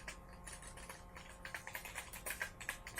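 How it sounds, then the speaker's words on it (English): Soft, rapid keystrokes clatter on a computer keyboard in irregular bursts, quiet and close against a low background hum. "my poor typing there"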